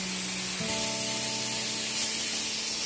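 Sliced eggplant fries in a pan over a high gas flame, making a continuous airy sizzle with a steady humming drone underneath and no talking.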